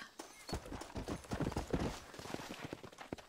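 Horse hooves from the game Red Dead Redemption clip-clop in a steady trotting rhythm, close and clear, with faint background ambience.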